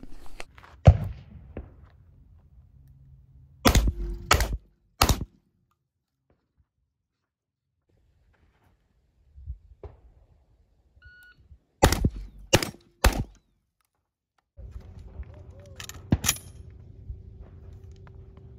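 A Remington Model 11 semi-automatic shotgun fires in two quick bursts of about three loud, sharp blasts each, separated by long quiet stretches with faint handling noises.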